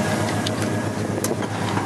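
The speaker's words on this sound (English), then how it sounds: "Like a half throttle. Nice set of pipes. Nice sound. Stroker motor." A 1975 Chevy K10 Stepside shortbed 4x4 pickup with a stroker motor and aftermarket exhaust pipes holds a steady half-throttle drone, a dense continuous rumble heard close with no voices.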